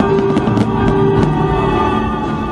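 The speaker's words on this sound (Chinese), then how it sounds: "绚丽璀璨的烟火点亮夜空" Fireworks at the Penghu International Fireworks Festival burst over the night sky in a dense, continuous crackle with a few louder pops near the start, heard from a distance without voices.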